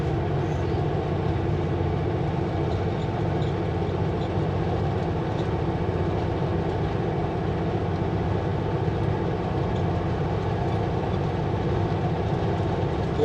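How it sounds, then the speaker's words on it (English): A tanker truck labours up a long grade near Princeton, British Columbia, its engine a steady, heavy low rumble with road noise that holds for several seconds without a break. "Tanker going up."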